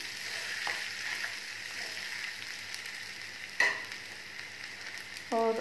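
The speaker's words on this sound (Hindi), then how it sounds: "तो ये मैंने आलू को मैश कर लिया था बीच में, इसे मिक्स कर लेंगे अब हम।" Mashed potato and semolina (sooji) being mixed together in a bowl for a potato kachori dough: a soft, continuous scraping and stirring texture with a sharper clink partway through and a brief knock near the end.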